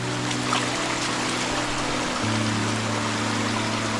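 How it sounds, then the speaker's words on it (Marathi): A forest spring in the Konkan countryside pours water in a steady, continuous rush. The flow stays fairly close and even throughout, with a low, constant hum underneath. "हा बघा झरा आहे ते पाणी भरतो आता जारमध्ये"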